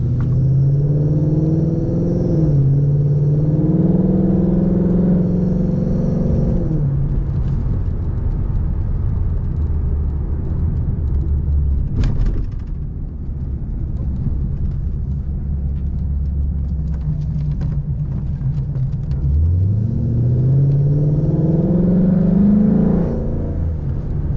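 A 2011 Mustang GT fitted with a Roush axle-back exhaust cruises in regular drive, heard from inside with the windows up: a steady low rumble with two gentle rises in engine pitch, one early and one near the end, and no talk.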